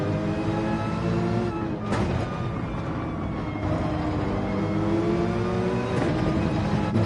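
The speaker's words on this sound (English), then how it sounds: "Riding aboard in the cockpit of Fortman's Porsche as he tries to get past Black Country in front of him for 10th place." A Porsche race car in Gran Turismo 7 at Laguna Seca, heard from the cockpit as its engine holds a loud, continuous high-revving drone that rises and falls through gear changes.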